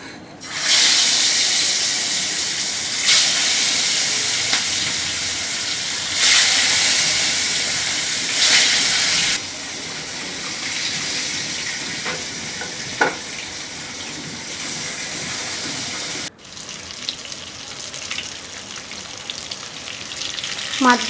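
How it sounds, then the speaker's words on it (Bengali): Kalbasu fish pieces frying in very hot white oil in a wok, a loud continuous hiss and sizzle that surges as pieces go in, then settles into a softer crackle with faint clinks. "এবার আমি মাছগুলো ভেজে নেব।"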